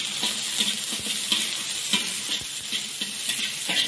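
Onion, carrot, capsicum and beans sauté in a hot pan for vegetable noodles, giving a loud, steady sizzle broken by regular scraping stirs, with no talking.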